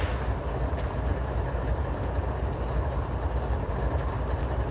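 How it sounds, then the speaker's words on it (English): Norfolk Southern freight train NS 189 rolls along the tracks nearby, a loud steady rumble of railcars with low clattering wheels throughout. "NS 189 getting ready to come right past us."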